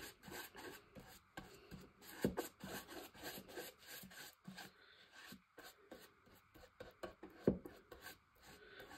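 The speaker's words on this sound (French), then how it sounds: "J'étale ma colle." Brush spreading glue across paper, a faint, close scraping and rubbing in repeated strokes with brief pauses, including a couple of sharper taps, heard alone without voices.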